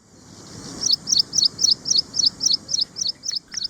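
A bird sings a quick run of about a dozen bright, evenly spaced double-note chirps, clear and fairly close over a low, quiet background.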